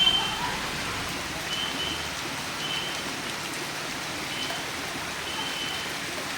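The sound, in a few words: heavy rain falling at night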